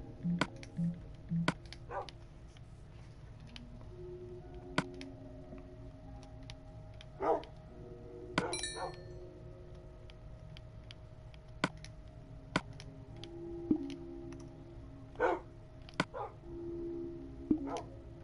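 Short, scattered dog barks and yips from Minecraft dogs pop up irregularly, some in quick clusters, thin and fairly quiet over a faint background with sparse clicks.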